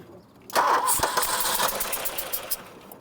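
Classic 1980s barn-find car, parked for twenty years, cranks and fires into a rough idle: a quiet lead-in, then a sudden loud catch that settles into a steady, close running engine with irregular pulses.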